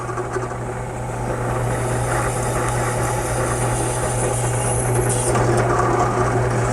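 A steady, continuous motorized whir with a constant low hum, like a power drill boring through material, running unbroken for several seconds.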